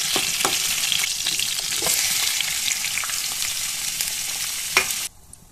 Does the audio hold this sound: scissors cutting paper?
no